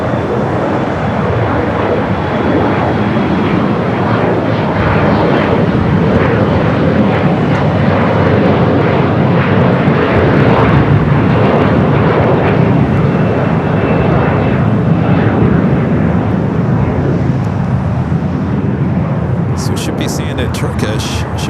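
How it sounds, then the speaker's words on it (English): A SkyWest United Express Embraer E-Jet takes off at LAX, a steady, loud jet engine roar that holds throughout, heard from close by with constant broadband rumble and no gaps. "EJet, next takeoff."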